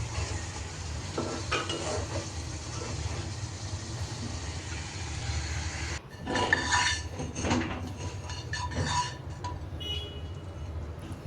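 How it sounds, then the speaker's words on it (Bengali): Onion, green chilli and chopped potato sauté with spices in a pan, a soft continuous sizzle under repeated close scraping and stirring strokes with occasional utensil clinks against the pan, with no talk. "প্রথমেই তো ভাজার পর মশলা দিয়ে এখন কষিয়ে নিচ্ছি"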